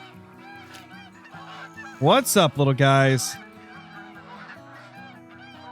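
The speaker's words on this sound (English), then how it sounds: "We got geese," Several geese in the hunting game Call of the Wild honk loudly in a burst of overlapping calls as the flock lands, rising above a quieter continuous background, with someone speaking briefly.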